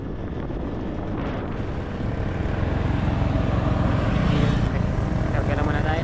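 Borrowed motorcycle being ridden, a steady engine drone with wind rush that grows louder partway through, continuous and close.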